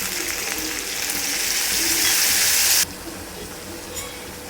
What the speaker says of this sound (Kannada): ಈಗ ನಾನು ಇದಕ್ಕೆ ಹುಣಸೆ ಹುಳಿ ಹಾಕ್ತಾಯಿದ್ದೀನಿ